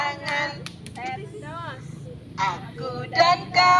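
Children clap their hands in scattered beats during a classroom outing song, with voices singing and talking over the claps.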